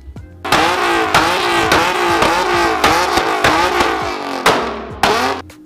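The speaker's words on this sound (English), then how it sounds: "not all uh, catback exhausts are created equal. They're all gonna have a different noise." A car's catback exhaust revs repeatedly, each blip rising and falling sharply in quick succession, loud and close with no talking.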